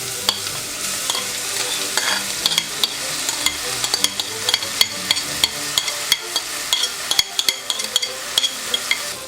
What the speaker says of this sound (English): You want to saute the garlic and the onion until it gets nice and softened.